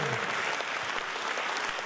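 Concert audience applauding performers at a Turkic-world arts festival gala, a continuous dense roar of clapping that fills the hall evenly from start to finish.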